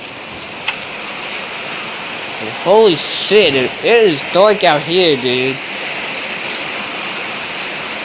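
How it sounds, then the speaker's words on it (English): Heavy evening rain pours steadily outside, a dense constant hiss that continues while someone speaks briefly over it. "But it is absolutely pouring out there."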